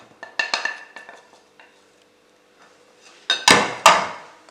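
Yogurt being stirred together with ginger powder, turmeric, chili powder, white pepper and nutmeg in a bowl, a spoon clinking and scraping in a few separate bursts, the loudest near the end.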